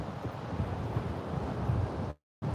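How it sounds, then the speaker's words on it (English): On a chilly, windy day outdoors, wind buffets a microphone with a steady broadband rush, moderately loud, then cuts out briefly in a moment of silence before it resumes. "it's chilly here today and it's windy"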